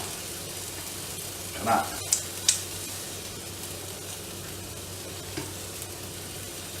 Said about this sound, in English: A nice bit of scrambled egg going on.